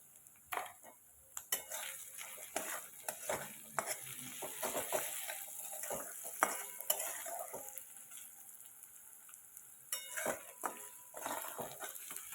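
Spoon stirring sugar into a sizzling pan mixture while cooking doi patal, with repeated scraping clinks against the pan over steady frying hiss, close and moderately quiet throughout.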